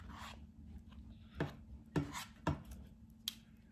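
Homemade slime mixture made with Tide as activator is stirred in a bowl, giving a few separate knocking scrapes spaced about half a second apart, close but quiet.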